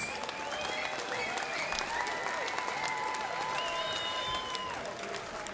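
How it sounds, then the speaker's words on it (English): A ringside crowd at a Muay Thai fight night applauds both fighters after the bout, a loud, dense, continuous wash of clapping with whistles and cheers running throughout. "a massive round of applause for both of these men, please"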